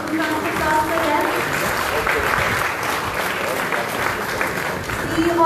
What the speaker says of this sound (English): Can I have some round of applause for them?